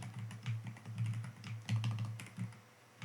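PHP code being typed on a computer keyboard, quick bursts of close, crisp key taps in an uneven rhythm with short pauses, no talking.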